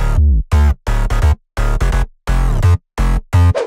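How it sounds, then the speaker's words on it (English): Synth sub bass for a future house drop plays a rhythmic pattern of loud, punchy chopped notes with deep low end, separated by short silent gaps, with no voices. "So our bass sounds like this."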